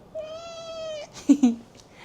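A single drawn-out meow holding a steady pitch for about a second, followed by two short, low muffled sounds close by.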